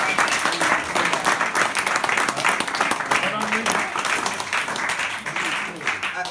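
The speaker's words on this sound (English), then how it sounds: "applause" An audience at an awards evening applauds a standout candidate, the dense clapping holding steady and fairly loud from start to finish without a break.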